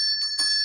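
An electric bell rings with a steady high metallic tone, sounding continuously with slight pulsing bursts, close and fairly loud.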